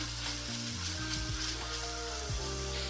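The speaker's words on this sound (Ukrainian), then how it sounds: "я викладаю лучок і даю йому підзолотитися" Steady sizzling and crackling of onions frying in hot pork fat, with occasional low tonal hum in the background.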